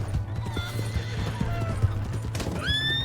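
A horse in Red Dead Redemption 2 clops along with steady hoofbeats, then lets out a loud, high whinny near the end, with a faint voice briefly under the noise.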